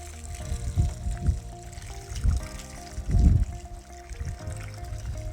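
Water pours and trickles into the soil of a freshly planted garden container, a soft gurgling stream with uneven splashing pulses, close by and without speech.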